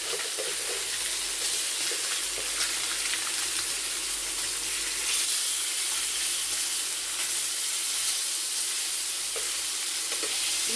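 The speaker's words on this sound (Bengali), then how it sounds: "মাছটা ভাজা ভাজা হচ্ছে" Pieces of rohu fish fry in hot oil in a pan, a steady, loud sizzle with scattered crackles and pops running without pause throughout.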